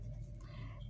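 Pen writing out an answer on paper, a brief faint scratch of about a second under a low room hum.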